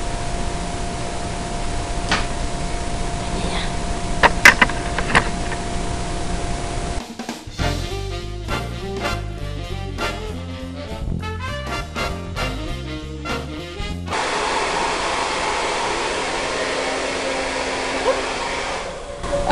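A hair dryer blows a steady, loud whoosh while hair is being dried, broken midway by a stretch of muffled, shifting airflow as the dryer moves, then returning to a constant blast.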